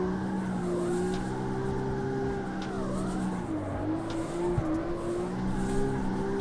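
A car engine in the video game CarX Street revs high and steady, its pitch swooping up and down as the car drifts, with a faint tire squeal underneath.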